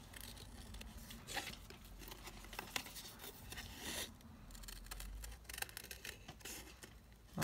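A hand cutting tool snipping and crunching through material in a rapid irregular series of close, crisp cuts and crinkles, with no one talking.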